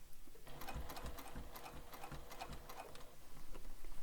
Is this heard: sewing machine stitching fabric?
yes